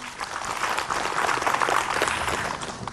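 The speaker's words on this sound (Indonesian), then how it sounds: "Tepuk tangan buat Ustadz Maulana." A crowd applauds at an Islamic religious talk in Indonesia, a dense wash of clapping that holds steady for a few seconds, fairly close and with no speech over it.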